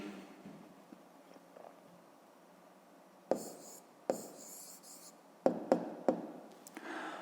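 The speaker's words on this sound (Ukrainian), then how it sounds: "Ну, а зараз давайте запишемо відповідь. Пишемо тоді відповідь." Pen or pencil writing an answer to a fifth-grade maths exercise on paper: a few short, distinct scratching strokes in bursts, close and fairly quiet, over a low hum.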